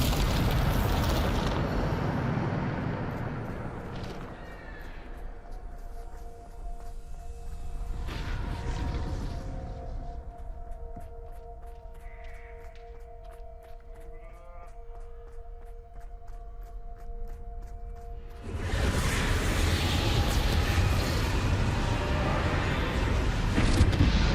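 A Bombarda explosion spell in the Hogwarts Legacy video game erupts with loud, close rumbling blasts and whooshes, separated by a quieter stretch with a faint sustained tone before a heavy burst returns, with no talking.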